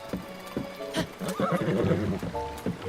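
A horse gallops in The Legend of Zelda: Breath of the Wild, with steady, evenly spaced hoofbeats and a whinny over a soft wash of ambient noise, and no talking.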